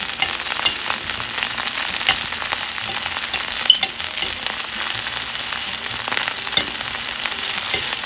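Onions caramelize in a frying pan with a loud, close, unbroken sizzle dotted with fine crackles and pops.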